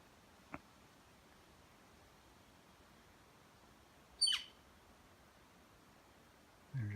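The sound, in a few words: bird call that sounds like elk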